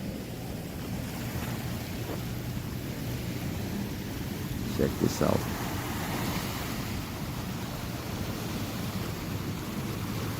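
Sea waves wash against the shore below the Fortress of Copacabana in Rio, a constant broad surf roar with a short brighter splash midway, while a person speaks briefly over it.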